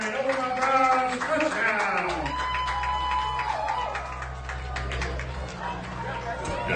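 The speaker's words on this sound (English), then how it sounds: "Luke Hughes trying to pump the crowd up." Crowd at a high school football game cheers after a touchdown, a broad steady roar of voices and clapping, with an announcer talking over it.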